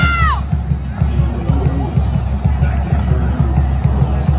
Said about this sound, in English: A sold-out crowd here today.